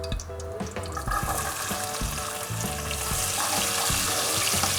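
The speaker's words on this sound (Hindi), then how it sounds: "इसके अंदर हमने डालना प्याज।" Onions sizzle and crackle steadily in hot oil in a pan for chicken kaleji, close and continuous, with faint stirring scrapes mixed in.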